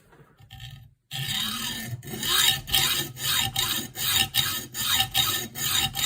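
A worn hacksaw cuts through an unhardened metal gun part from a Joseph Lang & Sons shotgun with a rhythmic rasping: about nine back-and-forth strokes, close and steady, starting after a brief quiet moment.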